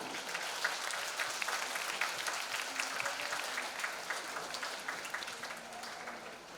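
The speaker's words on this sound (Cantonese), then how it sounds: "咁我哋一齊以熱烈掌聲去有請羅老師上台" An audience at a school music exchange concert applauds warmly as a teacher is welcomed onto the stage, a steady, dense clapping from a large crowd that holds throughout and slowly fades toward the end.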